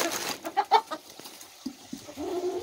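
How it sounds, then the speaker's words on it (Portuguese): Laying hen clucking at close range, a series of short uneven clucks and soft calls with a few louder bursts, no talking. "Aqui é a galinha poedeira."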